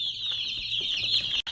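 Chickens on a chicken farm cluck and chatter in a steady, fairly close flock sound, with a high insistent tone running throughout and a brief break near the end.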